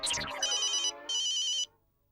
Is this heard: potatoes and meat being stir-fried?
no